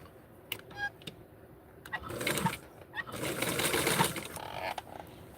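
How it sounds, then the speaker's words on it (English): A sewing machine runs in bursts while stitching a seam on a doll-sized garment, with short pauses between runs of the motor, close and fairly loud. "I'm going to sew it a second time"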